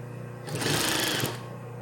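A sewing machine topstitches a French seam in one short, steady burst of rapid stitching, its motor whirring up loudly and then stopping, with a low hum underneath.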